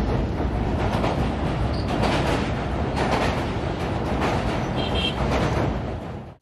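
The Sir Syed Express passenger train crosses the Kotri station yard at slow speed, a loud continuous rumble of wheels and carriages with rhythmic rail clatter and brief metallic squeals, fading at the end.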